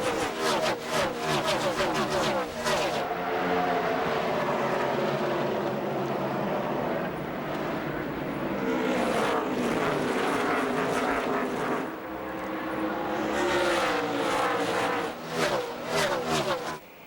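A pack of NASCAR stock cars roars to the green flag at the 2006 Checkers Auto Parts 500, a loud, sustained wall of revving V8 engines swelling and surging as the field accelerates past.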